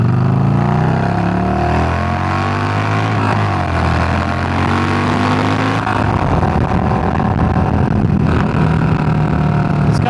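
A 900cc motorcycle engine runs steadily while being ridden, a loud continuous drone with shifting pitch as the revs rise and fall, and wind rush building in the second half.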